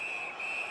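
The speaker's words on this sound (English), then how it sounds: "Whistle is blown. Penalty call." A referee's whistle blows during a hockey game to call a penalty, a single sustained shrill tone that holds steady for almost a second over faint arena ambience.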